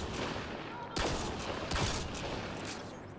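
Sniper rifle shots in Mass Effect Andromeda, two sharp loud cracks about a second apart over constant dense combat ambience and gunfire.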